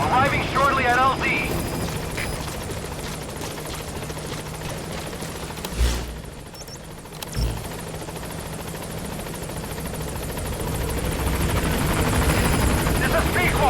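A helicopter in Metal Gear Solid V approaches a landing zone with a loud, continuous rotor drone that dips briefly in the middle, then swells back up and grows louder toward the end, with radio chatter early on.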